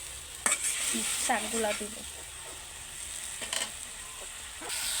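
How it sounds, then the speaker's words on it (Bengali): Spice masala being stirred and fried in a pan for a red amaranth and puti fish curry, with soft sizzling and occasional scrapes under quiet speech. "তো দিয়ে এইভাবে আমি মশলাটাকে একটু নাড়াচাড়া করে নিব।"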